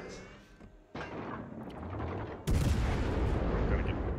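A warship fires high-explosive shells in a naval battle video game, heavy booming salvos with a sharp blast midway, over rumbling battle ambience.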